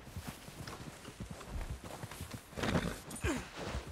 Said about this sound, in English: Is my other horse coming?